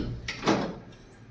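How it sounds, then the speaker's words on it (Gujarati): A home door is unlatched from its stopper and swung open, a quick close click followed by a short creaking swing, all over about a second. "સ્ટોપર ખોલી દીધી."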